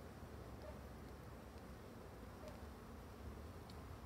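A populous colony of black honeybees hums as a steady, soft, even drone throughout, with no voices over it.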